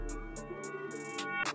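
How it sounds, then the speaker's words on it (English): A bell sample pitched up and played in reverse, swelling into bright attacks near the end over a sustained tonal bed with a regular bright ticking pulse, no voice. "but this one is pitched up 100 semitones and it's reversed,"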